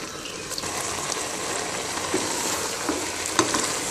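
Eggplant curry cooked without oil being stirred in a pan on the stove, a continuous bright sizzle with soft scraping stirs and a few light clinks, close and alone.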